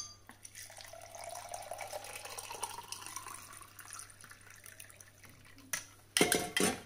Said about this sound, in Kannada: ಆಮೇಲೆ ನೀರು ಹಾಕಬೇಕು.